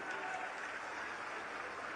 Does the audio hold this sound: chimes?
no